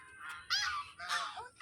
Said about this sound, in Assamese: ৰাজহাঁহ।